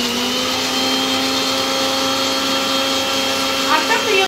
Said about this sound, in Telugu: దీంట్లో కొన్ని వాటర్ పోసి అయితే ఇప్పుడు మిక్సీ పడతాం.